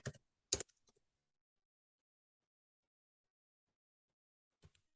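A few sharp keyboard keystrokes land close together at the start, then the sound falls silent before one last faint tap, as a field name is typed into an Excel data-entry form.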